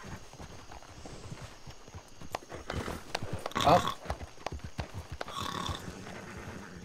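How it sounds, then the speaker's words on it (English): Horse hooves clip-clopping at a steady walk in a Western setting, faint and mid-distance beneath a brief grunt and some talking, with a louder cluster of hoof hits in the middle. "And my own horse."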